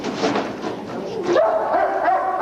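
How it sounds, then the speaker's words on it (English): Drug-sniffing police dog barking in a school hallway during a police raid, a few quick nearby yips and barks followed by a higher whining tone, fairly loud. "He was barking like crazy."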